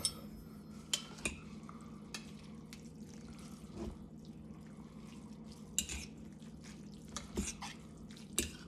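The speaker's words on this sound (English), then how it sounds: "I'm gonna stir it up and let you guys take a look." MAMA brand clear pho instant noodles are stirred in a bowl, giving soft wet swishing with scattered light clinks of a utensil against the bowl, close up and without speech.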